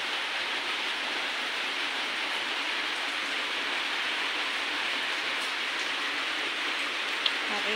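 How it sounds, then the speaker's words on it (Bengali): Rain pouring down outdoors in Assam after a heavy morning downpour, a steady dense hiss of drops with no pauses, close and fairly loud throughout. "আজকে দেখো এখানে খুব বৃষ্টি পড়ছে"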